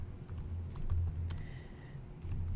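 Keys clatter in short irregular bursts on a computer keyboard in a classroom, light close-up tapping over a low steady room hum, with no voices.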